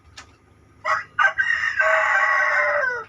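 Free-range chickens on a small farm, with a rooster letting out one clear, loud crow after a few short clucking bursts, near and alone over a faint low background hum.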